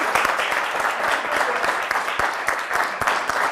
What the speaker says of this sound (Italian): presento gli altri ospiti con l'applauso delle Pro Loco